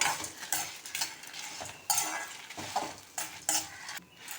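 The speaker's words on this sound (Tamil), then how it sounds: "சேர்த்து இப்போ இதையும் எல்லாம் ஒன்றா வறுத்து விட்டுருவோம்" Dry chillies, including Kashmiri chillies, and whole spices are stirred and dry-roasted in a pan for sambar powder, with a close, uneven scraping and rattling as a spoon pushes the dry mixture around in short strokes.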